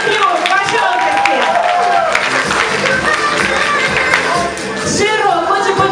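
A crowd at a student-of-the-year awards ceremony applauds steadily and loudly throughout, dense clapping with some cheering and voices mixed in, sustained without a break.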